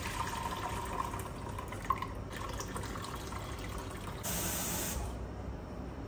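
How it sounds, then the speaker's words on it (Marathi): Water runs and splashes over soaked mung beans during rinsing in a home kitchen, a soft continuous spray with small drips, briefly louder toward the end. "त्यातून पाणी काढून वॉश करते आणि मग भिजवते"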